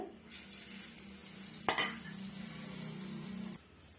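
Egg pakoda batter is poured into hot oil over a medium flame, giving a steady sizzle with a brief clink of a utensil partway through, after which the sound drops off.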